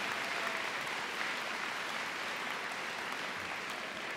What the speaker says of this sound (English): a huge round of applause, please, for our senior scholars in the class of 2023